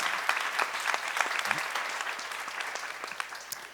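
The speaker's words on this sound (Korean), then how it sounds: "박수." A church congregation at a Bible seminary session breaks into steady, dense applause that carries on throughout and gradually thins near the end, with a brief voice in the middle.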